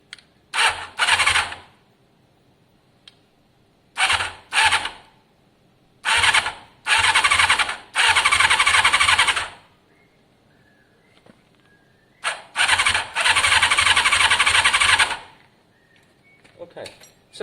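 A Kawasaki ZL600 motorcycle engine cranks over in several separate bursts of a few seconds each, loud and close, with quiet gaps between attempts as it is turned without catching.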